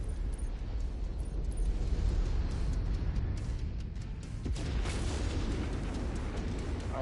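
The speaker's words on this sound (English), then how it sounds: "Commander's kill is about to explode." A mech blows apart in MechWarrior 5: Mercenaries on PS5, a loud, sustained roar of rumbling booms and crackling bursts that swells midway and keeps churning throughout.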